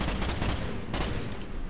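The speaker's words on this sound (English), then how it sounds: "Fire in short, controlled bursts." Rapid rifle gunfire rattles at firing range targets in the Starship Troopers (2005) video game, a dense continuous burst of shots that stays loud for the whole stretch with no talking.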